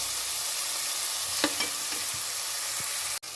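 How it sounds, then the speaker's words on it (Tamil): Onions sautéing in hot oil for South Indian sambar, a steady close sizzle with a few soft stirring clinks, continuous throughout with no talk. "வெங்காயம் நல்லா வதங்கட்டும்."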